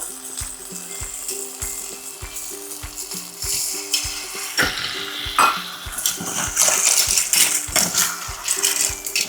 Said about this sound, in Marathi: आता आपल्याला त्याला पाणी टाकायचं आहे थोडंसं